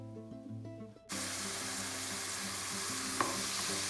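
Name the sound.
onions and crushed spices frying and being stirred in pan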